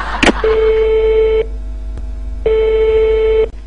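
A telephone line plays a loud, steady tone after the handset is hung up, sounding in two long beeps separated by a short pause, with a brief clatter at the start.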